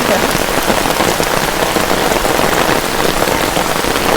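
Steady, dense rain pattering on a surface, a continuous loud hiss of drops with no pauses.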